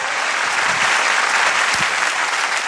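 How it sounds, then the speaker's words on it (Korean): Studio audience clapping steadily on a Korean TV music talk show, a dense, even wash of applause from a sizeable crowd filling the whole moment with no talk over it. "이럴 때 박수 한번 주세요, 바로."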